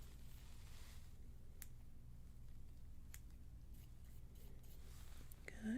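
Scissors cut hair in an ASMR haircut roleplay, giving a few faint, sparse snips close to the mic over a quiet, steady background.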